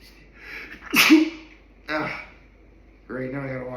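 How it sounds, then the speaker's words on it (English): A single sharp human sneeze bursts out after a brief inhale, loud and close, followed by a quieter breathy sound and then someone speaking. "I obviously I just sneezed right there"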